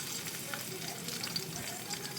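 Garlic frying in two or three spoons of oil in a pan, a steady soft sizzle and crackle running throughout at moderate level, with no talk over it.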